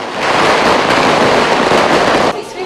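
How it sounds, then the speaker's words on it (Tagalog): Firecrackers burst at New Year in the Philippines in a dense, loud crackling barrage that continues without pause, then drops sharply just before the end. "hindi pa rin maawat ang ilan sa ating mga kababayan sa paggamit ng mga paputok"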